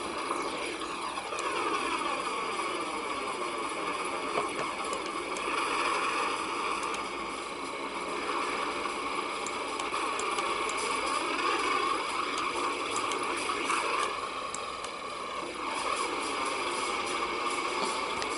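A locomotive engine in the train simulator game Trainz: A New Era drones steadily with a slight wavering pitch, loud and unbroken, with no voices.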